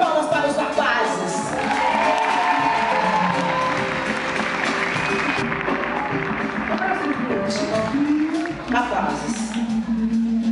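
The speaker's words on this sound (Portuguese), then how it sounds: "uma salva de palmas para os rapazes." A crowd at a live concert at FIESP applauds and cheers steadily throughout, mixed with voices and music.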